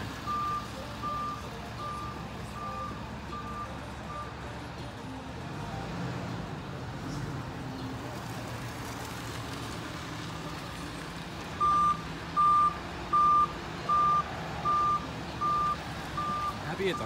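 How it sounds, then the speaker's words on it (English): A flatbed tow truck idles with a low rumble while its reversing alarm beeps in a steady, evenly spaced series, starting faintly and then loud and close. "tow truck's here"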